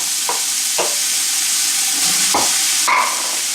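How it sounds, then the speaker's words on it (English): Onions and peppers sizzle in hot oil in a sauté pan, a steady loud frying hiss with a few short scraping stirs breaking through. "the oil's getting hot, so I'm going to put the onions in, the peppers,"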